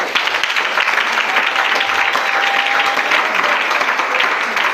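A church congregation applauding to acclaim the Lord, dense, loud, sustained clapping that continues evenly throughout with faint voices underneath.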